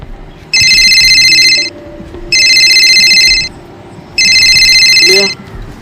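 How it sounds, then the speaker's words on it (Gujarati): A telephone rings with an incoming call, three loud electronic bursts of ringing with short pauses between them, close up. "ફોન આવ્યો"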